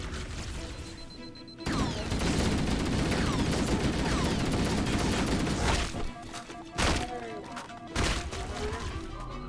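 Gunfire from Halo: Combat Evolved Anniversary rattles in dense bursts for several seconds, then breaks into scattered single shots and sharp impact cracks, loud and close with a game soundtrack behind.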